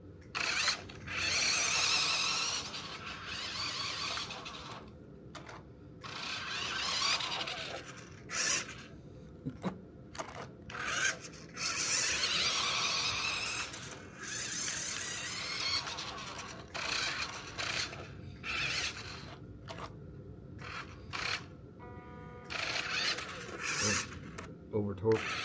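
A torque wrench clicks repeatedly as it reaches and passes its set torque, bursts of ratcheting clicks alternating with short pauses over about twenty-five seconds, up close.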